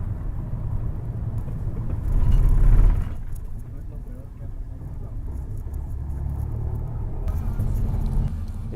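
A bus engine idles at a bus station on the way to Uruapan in Mexico, giving a steady low rumble that swells briefly before settling back into a continuous drone under background activity.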